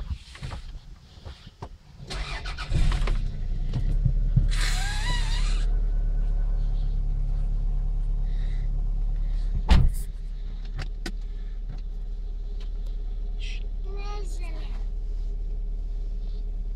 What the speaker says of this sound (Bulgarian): Палим колата.